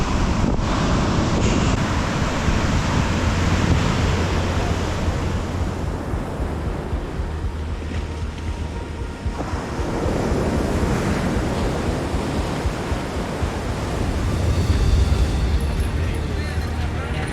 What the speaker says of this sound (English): the beach sits below rugged cliffs with golden sand, a small fresh waterfall on the edge of the wild Atlantic Ocean